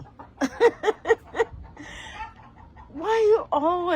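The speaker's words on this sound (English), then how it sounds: "you always gotta torment them chickens?" Backyard chickens cluck in a quick run of five or six close, sharp notes, followed by a short pause and then a couple of longer, drawn-out squawking calls.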